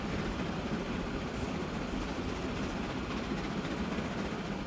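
A Baldwin six-wheel steam train running in Transport Fever 2, a steady low rumble and rolling rail noise at constant level, heard alone without talk.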